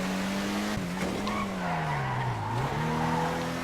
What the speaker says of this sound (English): but this car is not bad at drifting.